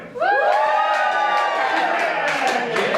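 A live comedy show audience cheers and whoops loudly, with bright voices rising over a dense, sustained crowd roar and possible clapping for the full three seconds.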